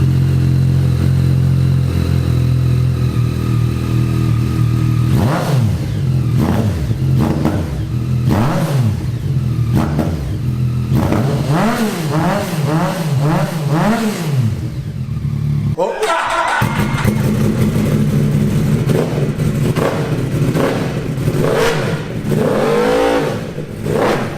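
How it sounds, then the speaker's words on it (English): A Yamaha MT-09 inline-triple engine with an aftermarket exhaust revs hard and repeatedly up and down, loud and close, with a rasping, rising and falling exhaust note and a brief cutout midway. "When you're wringing this thing's neck, the inline triple, it sounds amazing, especially with the Alpha T exhaust"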